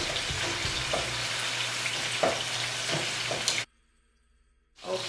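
Chicken breast fries in a pan with a steady, crackling sizzle and small pops, fairly close, before the sound cuts out abruptly to near silence and then returns briefly at the end.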